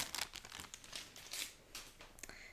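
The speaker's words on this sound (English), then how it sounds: "Sorry, crinkle. I forgot to take this one out of the package." Crinkly plastic packaging being unwrapped from embroidery floss, continuous close rustling and crackling in uneven bursts at low volume.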